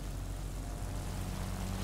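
Propeller warplane engine in the World of Warplanes video game, a steady continuous droning hum with a low rumble, holding even and loud throughout with no talk over it.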